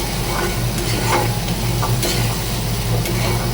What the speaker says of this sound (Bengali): মশলাটা কষানো হচ্ছে, নিরামিষি।